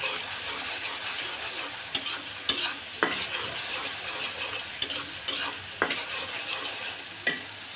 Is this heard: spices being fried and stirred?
yes